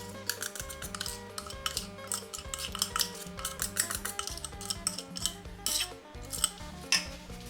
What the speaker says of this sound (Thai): คนๆๆให้เขาเข้ากันแล้วก็นำไปผสมเลยค่ะ